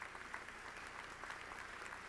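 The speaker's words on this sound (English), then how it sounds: "Give him a round of applause for that spirit." Graduation ceremony audience applauding during a keynote address, a dense, steady wash of many hands clapping that sounds distant and fairly faint throughout the short stretch.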